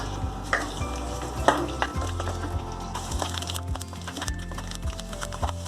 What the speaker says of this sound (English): Oil, first fry these coconut slices.